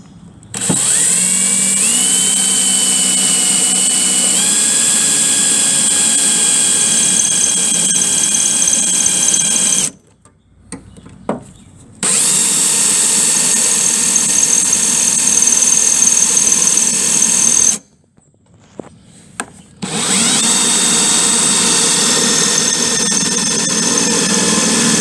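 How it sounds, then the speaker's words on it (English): A power drill bores out a spot-weld plug on the steel body of a 1966 Dodge Dart GT barn find during quarter panel repair, a loud steady whine that runs in long bursts, stops briefly twice and then starts again. "taking a drill, and which is a bigger diameter drill, just enough to drill out that plug."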